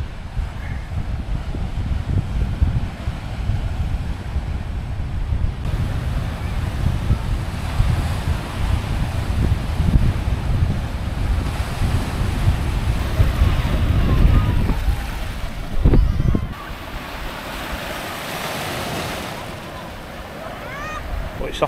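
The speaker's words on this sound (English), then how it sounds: "look at that beautiful beach" Waves wash onto a sandy beach at Corralejo, Fuerteventura, a steady surging hiss mixed with heavy wind buffeting the microphone, with a brief louder gust near the end.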